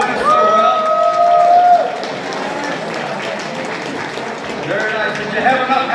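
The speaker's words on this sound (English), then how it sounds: "let's get a round of applause for all the staff here that served us so well" A dinner crowd at a Highland games awards event applauds the serving staff, a steady wash of clapping and cheering over noisy room chatter, with a whistle-like tone early on.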